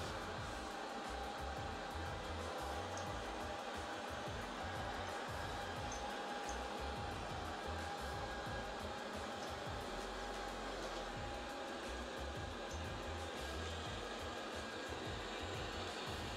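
A Proscenic 850T robot vacuum cleaner runs on a tabletop, giving a steady close whirring motor hum with a faint high whine, continuous throughout without speech.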